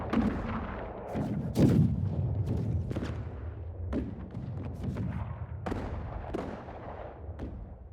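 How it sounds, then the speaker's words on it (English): Historic firearms from a warfare ambience library, heard as a battle scene with repeated heavy booming shots and cracks at irregular intervals over a dense rumbling background, some blasts near and loud, others more distant. "Historic firearms."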